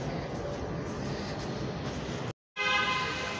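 A Delhi metro train arriving at Tilak Nagar station rumbles steadily with a loud broadband roar, briefly cutting to silence before the rolling noise resumes close by.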